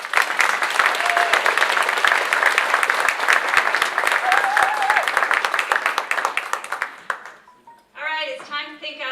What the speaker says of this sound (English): You guys, round of applause for Tammy, Westcott.